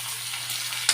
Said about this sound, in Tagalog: Nalagay ko na yung paprika. Konting gisa-gisa lang.